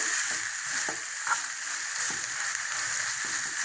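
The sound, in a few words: stirring raw mango chutney powder in a pan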